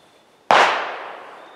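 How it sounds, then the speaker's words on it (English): A single sharp pistol shot cracks out close and loud after brief quiet, its muzzle blast decaying into a short fading echo. "Muzzle blast."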